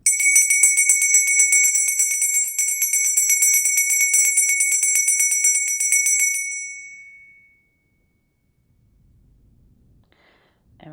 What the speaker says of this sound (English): I'm going to ring your bell, clear your energy,